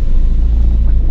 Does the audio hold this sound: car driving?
yes